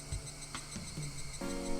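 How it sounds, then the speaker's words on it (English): Cicadas and insects drone steadily in summer heat within a video game scene, a faint continuous buzzing layered with soft tonal background music and a few brief clicks. "the cicadas are already crying because it's gotten hot early this year"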